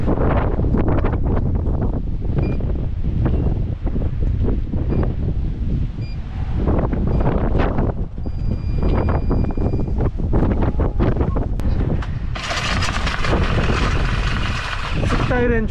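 Strong typhoon-like gusts on the Jeju coast at Iho Teu, roaring steadily and buffeting the microphone loudly the whole time, with a voice speaking beneath the wind.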